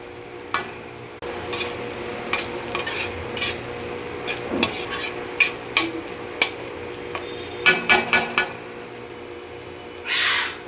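Spice paste for a fish curry with potatoes fries in oil, giving a steady low sizzle broken by a run of sharp, close spatula scrapes and taps against the pan at an irregular rhythm.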